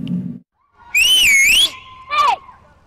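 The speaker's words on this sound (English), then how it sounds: "her whistle means stop what you're doing" A daycare teacher's whistle sounds in two shrill, wavering bursts, the first longer, with a short low sound just before them.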